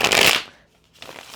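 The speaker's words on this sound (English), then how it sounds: "people enjoy the shuffle on camera, and I'm happy to do it" Tarot cards riffled in two quick bursts, a loud crisp shuffle followed by a softer second one after a short pause, with no talking.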